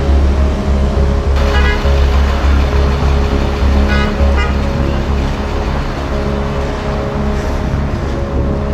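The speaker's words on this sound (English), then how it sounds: "Non-stop honking." Busy New York City traffic rumbles steadily with engines droning, and a few car horns sound briefly through the din.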